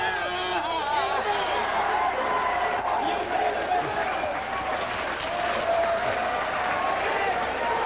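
A crowd in Harlem claps and cheers amid loud chatter, steady applause and shouting voices blending at close range for the full stretch.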